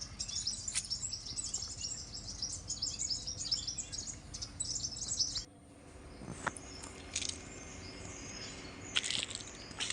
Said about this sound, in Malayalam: കിളികളുടെ ചിൽച്ചിൽ ശബ്ദം